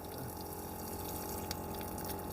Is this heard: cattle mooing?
no